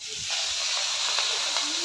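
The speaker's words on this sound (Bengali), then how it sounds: "চিংড়ি মাছ ভাজা যাচ্ছে" Medium-size shrimp fry in a hot pan, giving a steady, bright hiss with faint crackles throughout and no voices.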